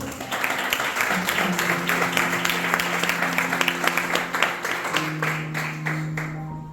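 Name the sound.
church congregation applause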